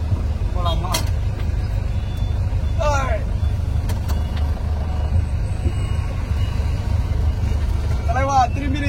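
A vintage Hindustan Ambassador car drives with a steady low engine and road rumble throughout, while a few brief vocal bursts rise above it.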